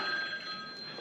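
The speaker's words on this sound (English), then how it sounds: "Oh, phone's ringing." A phone rings with a steady electronic tone during outdoor Dutch oven biscuit baking over charcoal, heard at moderate level over a soft background hiss.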